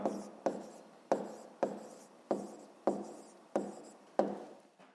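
A pen scratches across paper while a 5th-grade maths exercise is written out, in eight evenly spaced strokes, each a crisp onset that trails off, close and steady with no voices.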